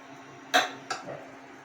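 A frying pan clanks twice as it is shifted onto another stove burner while making shrimp kofta, two sharp metallic knocks close together followed by a faint scrape in a quiet kitchen.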